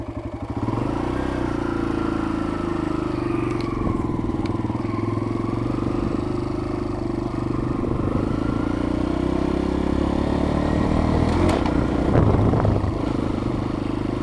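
Motorcycle ride recorded on a Midland XTC280VP action camera, with a continuous engine drone and wind rush that holds steady, changing pitch slightly as the bike speeds up and slows, plus brief clatters near the end.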